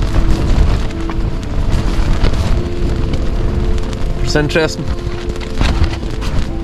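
Heavy wind and rain batter a tent while wild camping on Hen Mountain, a dense loud roar of gusts and rain on fabric with flapping bursts, close around the listener, and a voice speaks briefly.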